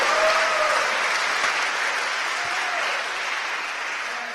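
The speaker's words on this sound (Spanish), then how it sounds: "Démosle palmas al Señor." A church congregation claps in praise during a sermon, a full, steady burst of applause that starts loud and slowly eases off, with no clear voices above it.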